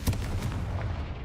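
A Confringo spell blast in Hogwarts Legacy: a loud booming explosion with a sharp onset, followed by a rumbling, crackling tail that fades over about a second.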